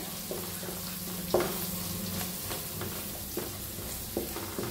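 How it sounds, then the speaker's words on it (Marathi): Masala with curry leaves and green chilli frying in a pan for stuffed brinjal, giving a steady close sizzle with occasional soft stirring clinks and scrapes, no talking. "कढीपत्ता त्याला उरला होता तो मसाला टाकूया, छान भाजून घेऊया मसाल्याला बी"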